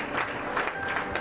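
An audience in a church service applauding, a short burst of dense, steady clapping from a crowd, moderately loud and continuous.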